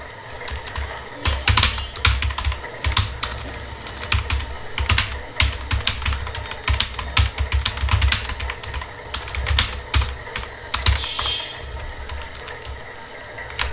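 Rapid, irregular keystrokes on a computer keyboard, typing a line of text in Microsoft Word, continue throughout over a low background rumble, with no talking.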